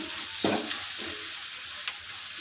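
Fifty grams of chopped onion sizzles steadily in a pan for a gugli and taro-leaf ghanta, with a couple of distinct scraping strokes from stirring over the constant close hiss and no talking.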